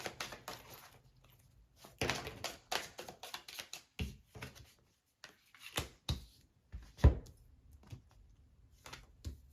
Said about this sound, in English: So let's see what tarot cards come out.